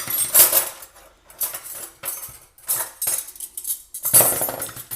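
Metal cutlery clinks and rattles in several short bursts as pieces are picked up and set down, loud and close, with brief pauses between.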